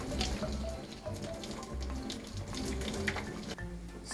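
Cold tap water runs steadily into a sink while parboiled tuna sashimi is chilled to stop it cooking, a continuous splashing stream with no talk.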